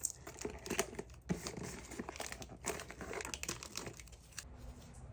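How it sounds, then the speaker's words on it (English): Packing tape is pulled, torn and pressed down to close a small jewelry shipping box, heard as quiet, close, irregular crinkling and ripping rustles with no talk. "Now it's just time to close. I'm taking some tape."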